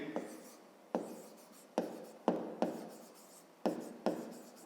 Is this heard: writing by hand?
yes